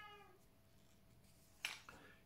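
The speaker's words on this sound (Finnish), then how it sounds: "kissapa tuntuu vähän naukuvan siinä" A house cat meows softly in an old Finnish home near a stove, a faint drawn-out call at the start followed by a short sharper sound, heard under low room noise.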